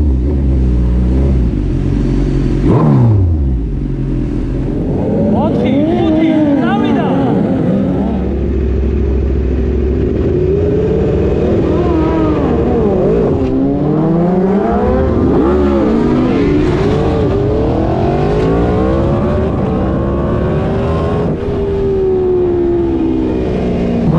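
Race cars launch at the start of a race, loud close engines revving and rising in pitch through gear changes, several machines roaring together and sweeping past continuously.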